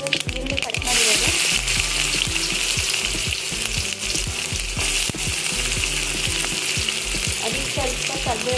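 Chopped medium onion and mustard seeds fry loudly in hot oil, a steady dense sizzle with stirring scrapes and small splashes throughout, close and continuous, with a voice talking over it at times.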